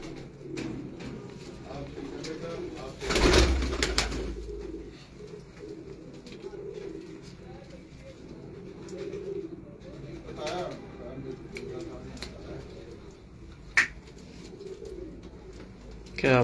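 Pigeons coo on a rooftop in Multan, soft repeated calls near and far, with a loud burst partway through and a sharp flutter late on; people talk intermittently underneath.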